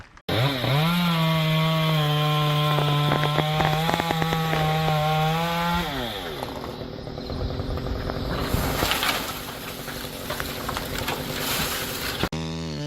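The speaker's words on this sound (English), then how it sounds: "gripping the roaring chainsaw tightly" A chainsaw cutting wood roars loudly at a steady pitch for several seconds, then drops off, followed by a rougher, noisier stretch of cutting.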